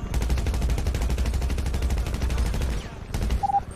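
Rapid video-game gunfire in a GTA-style roleplay drive-by, a dense sustained burst of automatic shots that stops abruptly near the end, followed by a few scattered sounds and a brief tone.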